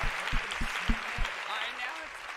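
Audience applause for the women at an ambition summit, moderate clapping heard somewhat distantly, with a few isolated sharp claps and other sounds over the crowd.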